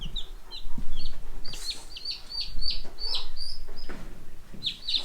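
Cornish Cross meat chicks clucking and peeping in short, repeated high calls, close by, with rustling and shuffling underneath.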